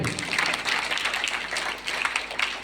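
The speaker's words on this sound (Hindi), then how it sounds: "उसके लिए एक जोरदार ताली हो" Students at a college orientation programme applaud an award, giving brief, moderately loud clapping from many hands that holds steady throughout.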